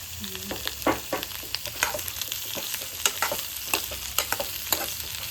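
Ingredients roast in oil in a pan, giving a close, steady crackling sizzle broken by frequent scraping stir strokes and clinks, with no talking.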